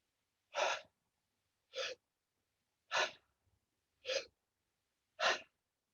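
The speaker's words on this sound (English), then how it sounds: "This is my tummy breathing in deep." Deep belly breaths taken during a conscious breathwork exercise, five strong airy breaths at a steady pace of roughly one every second, close and alone with quiet between them.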